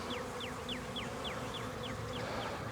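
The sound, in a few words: honey bees buzzing in front of hive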